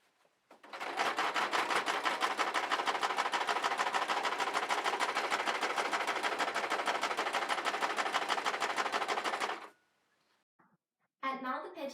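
A sewing machine runs in one long, steady, rapid burst of stitching as it closes the back seam of a stiffened Victorian petticoat skirt trimmed with horsehair braid. It stops abruptly, then resumes briefly.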